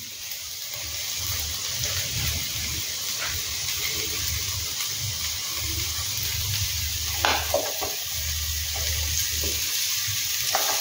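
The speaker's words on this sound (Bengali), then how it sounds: "যেমন তোমার পেঁয়াজটা একটু ভাজতে হবে" Onion frying in a pan gives a steady, close sizzle with occasional stirring scrapes and clinks.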